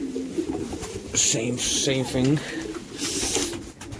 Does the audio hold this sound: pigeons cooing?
yes